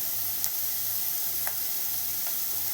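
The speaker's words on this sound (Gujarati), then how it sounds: "એટલે આપણી વેજીટેબલ તળતી થાય" Salted vegetables for manchow soup sizzle steadily in a hot pan, a constant frying hiss broken by a few faint clicks and pops.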